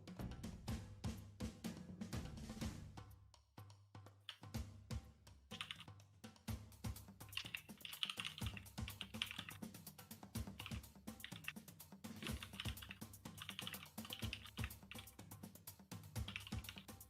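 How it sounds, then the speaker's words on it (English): Typing on a computer keyboard, rapid irregular clatter of key presses that runs continuously with brief pauses, close and fairly quiet, no voices. "who the fuck is typing?"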